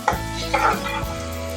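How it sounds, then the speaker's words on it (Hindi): Onions frying with ginger garlic paste in a pan for stuffed tinday, with a steady soft sizzle and a few stirring scrapes near the start, no talk. "जिंजर गार्लिक पेस्ट के साथ आपने प्याज को मज़ीद 5 से 6 मिनट तक आपने फ्राई करना है।"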